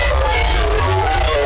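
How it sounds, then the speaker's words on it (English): A dubstep growl bass rendered without extra processing, a loud dense gritty synth tone with thick low end and noisy upper texture, sustained and alone for about a second and a half. "Without the additional processing, it sounds like this."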